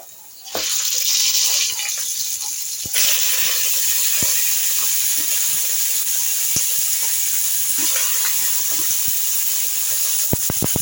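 Chicken pieces drop into a hot pan of fried onions and green chillies for chicken chukka, setting off a loud, steady hiss of sizzling that holds for about ten seconds with a few small crackles.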